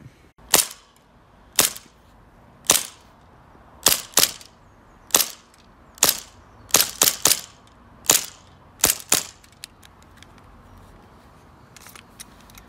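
Airsoft pistol shots from a Novritsch SSP1 and a Glock at a shooting range: about a dozen sharp, snappy cracks, some spaced singly and some in quick pairs and triplets, loud and close against a quiet background.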